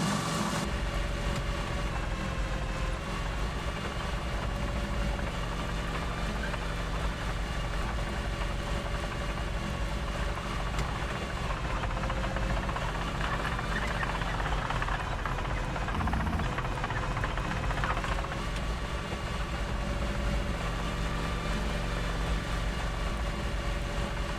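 A steady, continuous vehicle engine drone with a whirring rotor-like hum runs throughout while riding along in the PSRM video game, loud and unbroken with a slight swell midway.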